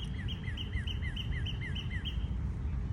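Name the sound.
birds chirping outdoors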